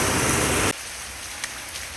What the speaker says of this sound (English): It's raining kind of heavy